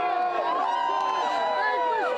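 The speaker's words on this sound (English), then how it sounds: "And the crowd here is just pumped up." A packed parade crowd celebrating the UConn men's basketball national championship, with many overlapping voices shouting and calling out in a dense, steady roar that doesn't let up.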